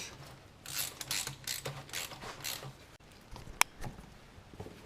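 A ratchet tightens brake assembly parts on an MH33 vehicle, producing quiet rapid clicking bursts in repeated strokes, followed by a pause and a single sharp metallic tap.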